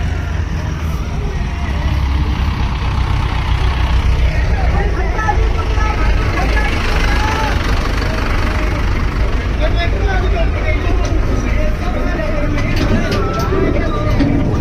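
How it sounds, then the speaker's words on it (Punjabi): A tractor engine rumbles steadily on a Punjabi farm during wheat season, loud and continuous throughout, with people talking over the engine noise. "ਦੇਖੋ ਬਾਈ ਟਰੈਕਟਰ ਵੀ ਆ ਗਿਆ ਇੱਧਰ"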